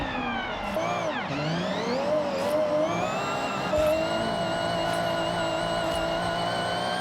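A car in the video game Forza Horizon 6 is driven fast in fourth gear, its engine holding a loud, steady high-revving drone with pitch sweeps as it corners and shifts, close and continuous throughout.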